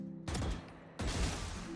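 Two quick bursts of gunfire in Valorant aim practice, each a sharp cluster of shots separated by a brief pause, loud and close with no talking.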